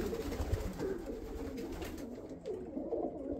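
Mourning-breed pigeons coo softly in a loft: low, repeated throaty calls sit under a constant rustling background. Occasional faint wing or movement noises are mixed in, and no one speaks.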